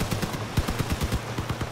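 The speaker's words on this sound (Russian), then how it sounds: "О, выстрел со всего на 11." Rapid machine-gun fire from vehicle weapons in the armored-car combat game Crossout, bursts of sharp shots crackling in quick succession over a steady low engine drone, with no talk.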